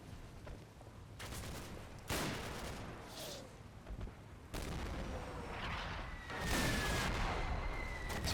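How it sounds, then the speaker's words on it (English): Artillery barrage and rifle fire from German forces in the Normandy battle game Combat Mission, heard as a series of loud booms and gunshot bursts at irregular intervals under continuous battlefield rumble. "Seems the German barrage coming in full force."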